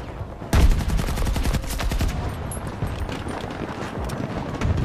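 Automatic rifle fire in Battlefield 2042 opens with a sharp loud shot, then sustained rapid close-range bursts that run on with brief gaps.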